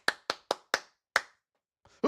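Five sharp hand claps in a quick, slightly uneven rhythm, close and distinct against silence, followed by a brief faint rustle and the start of another sound at the end.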